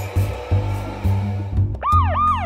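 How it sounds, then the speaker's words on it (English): A brief video game police car siren wails in rising and falling sweeps over a steady engine-like hum in a kart racing game, close and fairly loud. "We've got the siren"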